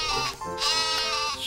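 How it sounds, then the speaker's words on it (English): A sheep bleats loudly and close, a wavering, nasal call that runs without a break, with no talking around it. "Sheep."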